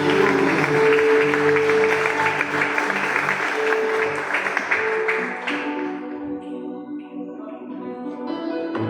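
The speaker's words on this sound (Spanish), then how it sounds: "De palmas al Dios de gloria." A church congregation claps together in praise during a Spanish-language service, steady dense applause that tapers off toward the end while musical tones linger underneath.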